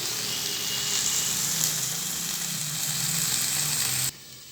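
Vegetables sauté in a hot pan with a steady, close, even sizzle that runs unbroken for several seconds and then cuts off abruptly.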